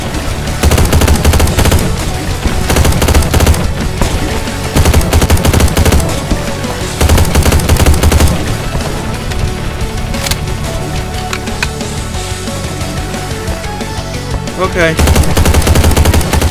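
Rapid, sustained machine gun fire in the Slendytubbies horror survival game at a military factory, loud and nearly continuous bursts with short gaps, players talking briefly over it.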